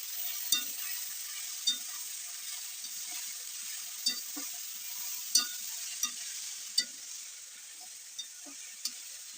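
Chicken frying with curry leaves and green chilli keeps up a constant close sizzle, while a spoon scrapes and taps the pan in irregular strokes every second or so as it is stirred.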